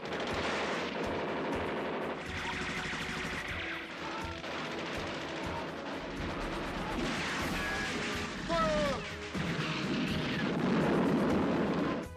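Sustained World War II battle gunfire between American and German soldiers, including a sniper: rapid bursts and scattered shots overlapping throughout, with heavier booms and a whistling streak midway, loud and dense.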